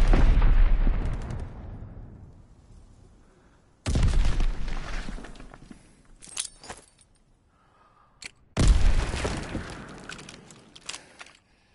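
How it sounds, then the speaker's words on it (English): Mortar explosions in the World War II video game Call of Duty: three heavy, loud booms, each rolling off into a long rumbling decay, with debris crackles in the gaps. "Enemy mortar fire incoming."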